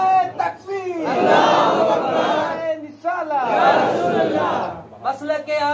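A large crowd at a Sufi religious gathering loudly chants the Takbir slogan in unison, two long, full-throated collective cries swelling and fading with a brief gap between them.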